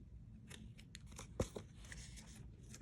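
Scissors snip through coffee-dyed cardstock in a few quiet, brief cuts, with one sharper crisp snip standing out midway over faint room background.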